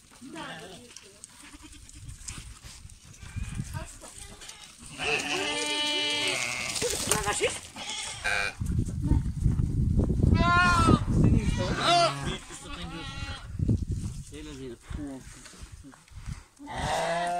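Goats bleat repeatedly at close range, several loud overlapping cries rising over a busy outdoor scene where people talk and shout.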